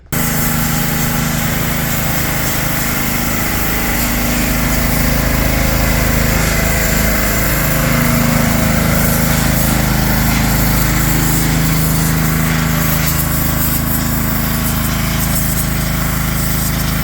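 A pressure washer runs continuously and loudly at close range while cleaning a 1969 VW Bus barn find, a steady motor drone with hissing spray throughout and no talking.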